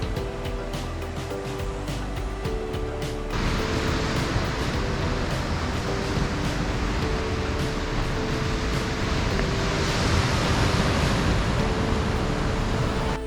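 Ocean waves breaking on the rocky coast of Duncan's Cove, Nova Scotia, a constant broad wash of surf that grows fuller after a few seconds, with no voices.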